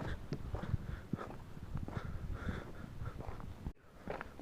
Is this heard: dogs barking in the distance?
yes